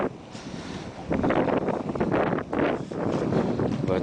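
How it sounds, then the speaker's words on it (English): Gusts of wind in the aftermath of Hurricane Irene blast the microphone near the water, a quieter start giving way to loud rough rumbling bursts that come and go. "Comes gusts of winds that come and go."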